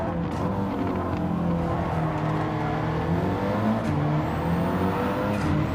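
A race car in the Gran Turismo 7 video game, played in PSVR2, drones at steady high revs with brief tire squeals, continuous and fairly loud with no voices.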